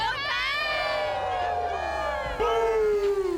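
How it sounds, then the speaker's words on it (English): A college football crowd at Carter Finley Stadium cheers on a game night: a dense, continuous roar of shouting voices, loud and immersive, with rising yells layered over the general din. "Really appreciate the crowd noise."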